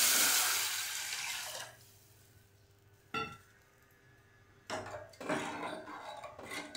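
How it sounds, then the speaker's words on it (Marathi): Buttermilk is poured into a hot pot of tempered spices for Maharashtrian kadhi, a loud close liquid gush and sizzle that fades off, followed by two shorter bursts of pouring and clinking. "हे ताक ओतून घेऊया आपण"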